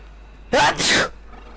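A man lets out one sharp, loud sneeze close to the microphone while playing Warframe on PS4. The sneeze comes in two quick bursts with a short catch of breath between them, and a quiet background hum sits underneath.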